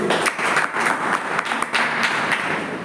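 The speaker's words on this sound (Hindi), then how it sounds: "सो एक जोरदार तालियां आपके लिए" An audience at a live product demonstration for IMC healthy living applauds, giving a dense, steady patter of many hands clapping throughout, fairly loud and close.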